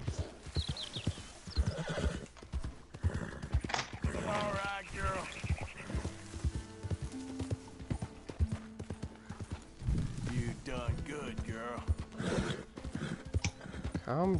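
A horse neighs repeatedly over busy clopping hooves and game-like background sounds in Red Dead Redemption II, with a voice speaking at times.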